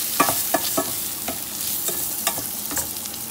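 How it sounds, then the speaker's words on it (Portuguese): A spoon stirs rice into tomato sauce with meat in a pot, a rhythm of quick scraping strokes over a bubbling sizzle, close and fairly loud, no talk. "Vou mexer."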